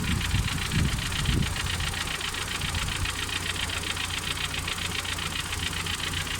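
An engine near high-tension power lines runs roughly up close, faltering on and off, with a rapid knocking vibration and an uneven, shuddering rhythm throughout.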